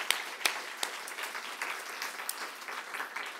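A church congregation at a Korean Presbyterian baptism and confirmation service applauds, a steady patter of many hands clapping together with a few sharper claps standing out.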